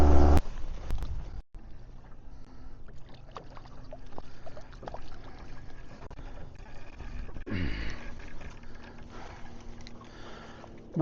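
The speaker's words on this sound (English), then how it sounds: "Too many boats in the river today." Boat motors hum and churn on a river during morning fishing, a steady mechanical drone with scattered clicks and knocks, one louder thump near the start.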